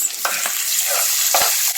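Onions and tomatoes sizzle steadily in a hot pan, with a few sharp scrapes and clinks as a utensil stirs them.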